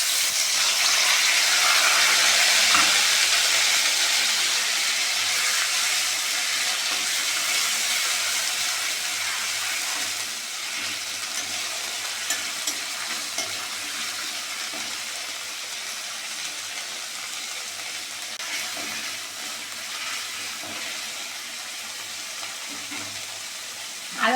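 Ginger, cumin and green chilli paste fries in oil with bay leaves, a loud broad hiss that starts strong and gradually settles into a softer steady sizzle with occasional small pops.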